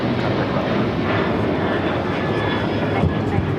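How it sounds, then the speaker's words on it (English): A Boeing 737-800 airliner on its takeoff roll at LAX, a steady broad engine roar holding level throughout with a person talking over it. "This is American Airlines 613 taking off to Chicago on the 737-800."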